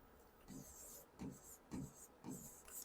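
Chalk or marker strokes scratch across a teaching board in about five short, evenly spaced bursts, quiet and close, while a voice talks faintly in the background.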